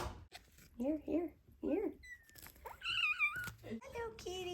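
Very young kittens meow in a kitchen, several thin rising and falling cries close by, interleaved with a person's quiet talk.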